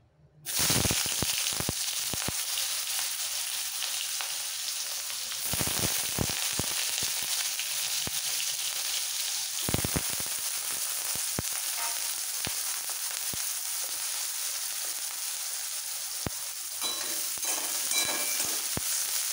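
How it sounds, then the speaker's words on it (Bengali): Eggplant slices dropped into very hot, smoking oil: a loud, dense crackling sizzle close by, holding steady throughout with a few sharp pops and stirring clatters. "তেল ভালোভাবে গরম হয়ে ধোঁয়া ছেড়েছে, খুব ভালো করে গরম করে নিতে হবে। এবার দিয়ে দিচ্ছি বেগুন।"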